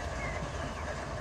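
Train passing in Run 8 Train Simulator, a steady low rumble with rolling rail noise, continuous and moderately loud with no talk.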